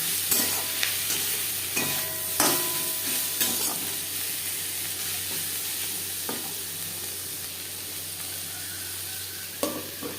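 Small Mourola fish frying in a pan with turmeric and salt, a constant loud sizzle under repeated spatula scrapes and stirring clatter at uneven intervals, heard close up with nobody speaking.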